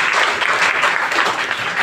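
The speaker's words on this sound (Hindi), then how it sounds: "एक बार अपने लिए जोरदार ताली बजाइए" A large seminar audience claps loudly and steadily at close range, a dense sustained burst of applause with no voices over it.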